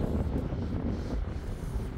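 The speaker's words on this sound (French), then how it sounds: "c'est agréable, c'est un tout petit vent léger" A light sea breeze blows along a Mediterranean quay as a steady, low, rumbling buffet of wind against the microphone, with no voices.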